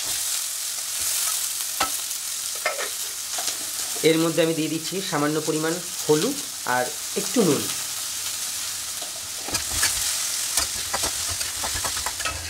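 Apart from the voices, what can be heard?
cut potatoes frying in oil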